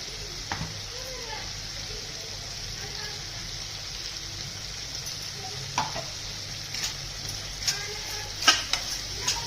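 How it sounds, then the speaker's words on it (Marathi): Dry prawn masala with onions and ground spice paste sizzles steadily in an oiled pan, a continuous close frying hiss with occasional clinks and scrapes of a spoon stirring. "छान परत एकदा परतून घ्यायचं."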